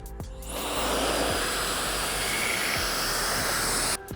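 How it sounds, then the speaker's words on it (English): A Wolfbox blower drying a car after washing, a loud steady rushing blast of air that starts within the first half second and holds strong and even for about three and a half seconds before cutting off. "It's not a Will's Ride Care video without at least one Wolfbox blower in it."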